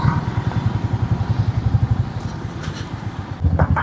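A motorcycle fitted with a replaced exhaust silencer idles close by, its engine thumping out a steady, loud low-pitched pulse that later turns rougher and more uneven.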